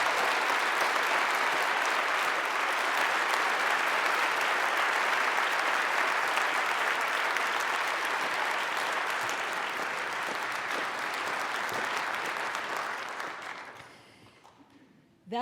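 Audience applause welcoming a speaker at the Westminster Town Hall Forum, a sustained dense clapping from a large crowd that holds steady for about twelve seconds, then fades away.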